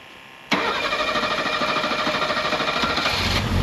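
A Mercedes SL Pagoda engine, revived after sitting 40 years, catches and runs steadily at a fast idle with a fairly loud, even mechanical drone, following a brief quiet moment.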